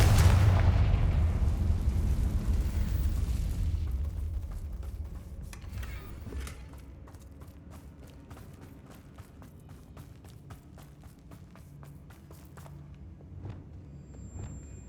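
Confringo spell explosions in the video game Hogwarts Legacy: a loud booming blast at the start that fades into rumbling, followed by scattered crackling impacts and rapid sharp hits.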